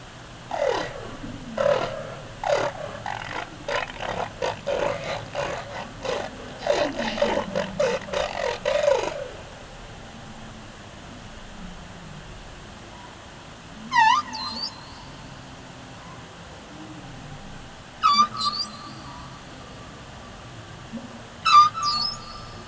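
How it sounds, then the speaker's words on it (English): Humpback whale calls picked up by a hydrophone at an Arctic observatory: a dense run of moaning, sweeping cries for about nine seconds, then quieter ocean hiss broken by three short, rising squeaky calls spaced several seconds apart. "That was a humpback whale."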